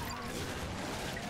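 A rocket explosion in a video game while riding a mighty wheel of death, heard as a dense, continuous crashing blast that fills the short moment loudly with no pause.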